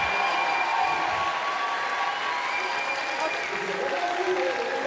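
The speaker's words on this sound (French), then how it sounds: "j'adore en plus quand on m'applaudit quand j'arrive" A studio audience applauds on the set of the Nouvelle Star 2015 TV talent show final, a continuous wash of clapping and crowd noise with steady tones running underneath.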